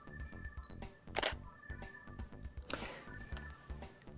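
A Canon Speedlite 470EX-AI flash fires with a camera shutter at close range, giving a sharp click and brief burst, then a second shutter click and whir over a faint, rhythmic background hum.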